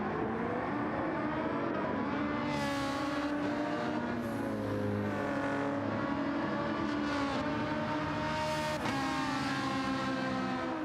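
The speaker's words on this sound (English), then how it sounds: "Sound of these cars in the straight line." Race cars in a sim racing video game howl along a straight, a steady layered engine drone with rising and falling pitch sweeps as cars shift and pass, loud and continuous without talk.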